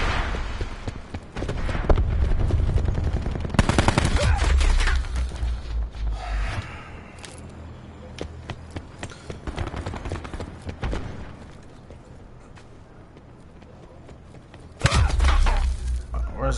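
Rocket launcher fire in a video game battle: loud, dense bursts of blasts and crackling impacts, with a sustained barrage easing into a lighter rumble before another heavy burst near the end.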